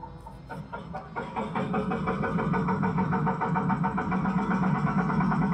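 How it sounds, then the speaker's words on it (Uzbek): A tractor-like engine sound played through the external speakers of a Zeekr 007 electric car, starting with a few knocks and then settling into a steady, loud, rumbling run. "Masalan, bu yerda traktorning ham ovozi bor ekan."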